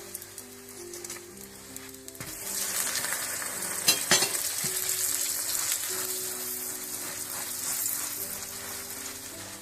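A butter-brushed radish-stuffed paratha fries on a hot griddle, crackling and sizzling steadily and growing louder after a flip, with a few light utensil scrapes and a faint background hum.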